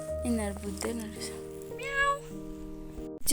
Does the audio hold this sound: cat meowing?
yes